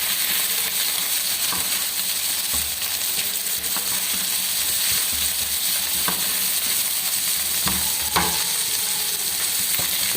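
Egg with black pepper and garam masala being stirred in a sizzling frying pan, steady loud frying hiss with scraping utensil strokes and occasional clicks, no voices.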